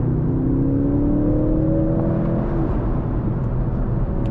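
A 2025 Mercedes-AMG C63 S E hybrid, 680 hp, accelerating hard from inside the cabin, its engine note rising in pitch over a steady loud drone and then shifting as the revs settle.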